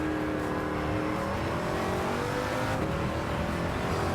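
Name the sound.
race car engine accelerating in Gran Turismo 7 video game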